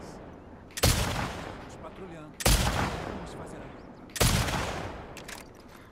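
Gunshots in The Last of Us Part 2 video game: three sharp, loud gunfire blasts spaced about two seconds apart, each with a short rumbling decay, while a voice speaks in between.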